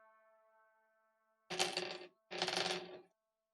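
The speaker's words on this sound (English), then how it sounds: "the noise of many, many dice hitting my desk" Two loud bursts of many dice clattering onto a desk, each rattling for about half a second with a short gap between, close and dry after a faint sustained tone.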